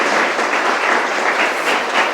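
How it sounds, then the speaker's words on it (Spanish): A church congregation gives Jesus loud applause during a Spanish-language service, a dense, steady wash of many clapping hands lasting throughout without a break. "dale ese fuerte aplauso a Jesús"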